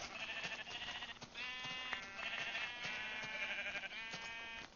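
Sheep in the video game Minecraft bleating repeatedly, a series of wavering, nasal baa calls in quick succession, fairly close and clear with no talk over them.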